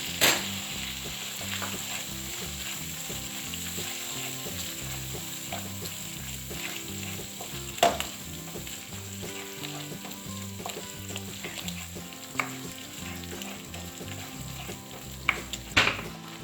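Soya meat and biryani mix being stirred and fried in a pan, with a steady close sizzle and occasional scraping clinks of the spoon against the pan, continuing without talk.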